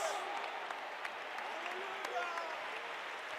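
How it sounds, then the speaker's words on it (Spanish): Congregation applause during a church worship service, heard as faint, steady, distant clapping with voices mixed in underneath. "Fuerte, fuerte, fuerte ese aplauso"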